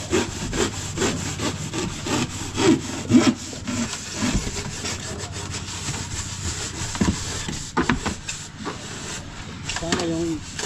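Knife sawing through urethane foam, a rough rhythmic rasping that runs almost throughout at close range, with people talking over parts of it.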